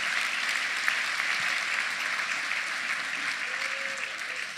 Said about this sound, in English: Round of applause, both sides.